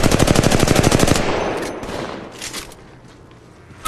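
Rapid automatic gunfire in Apex Legends Mobile, a loud burst of evenly spaced shots lasting over a second, then fading into scattered distant shots and ambient noise.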